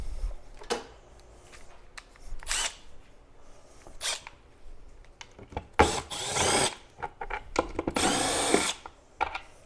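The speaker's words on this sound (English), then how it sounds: "let's get rid of these 3 screws." A small power driver whirs in short bursts while backing out three screws on a Pro-Ject Classic Evo turntable, with close buzzy runs broken by brief pauses and small handling clicks.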